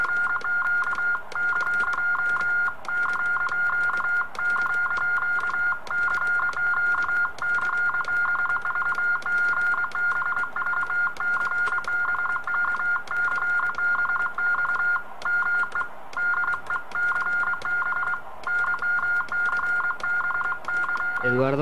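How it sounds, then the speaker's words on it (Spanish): An amateur radio station keys a steady radiotelegraphy tone in rapid on-off Morse bursts, continuous and fairly close, with a faint background hiss. "Y aquí tenemos lo que es la radiotelegrafía, ya, en este momento."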